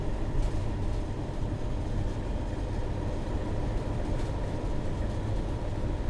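A train in Train Sim World 2 speeds along at high speed, giving a steady, loud, broadband rumble and roar that stays even throughout with no speech over it.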